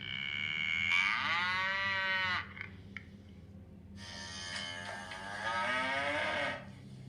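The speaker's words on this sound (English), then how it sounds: "Cow." Two long recorded cow moos, a farm animal sound played in a sound lotto listening game, each rising and falling over a low steady hum, clear and fairly close.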